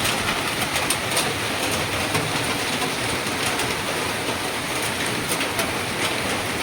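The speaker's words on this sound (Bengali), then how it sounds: "কি সুন্দর বৃষ্টি শুরু হয়েছে" Steady rain falls on a hot day, a dense, even hiss filling the whole stretch with faint bird calls mixed in and no talking.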